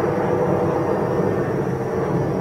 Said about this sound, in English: very loud, annoying plane up in the sky